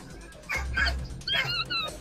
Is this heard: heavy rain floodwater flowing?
no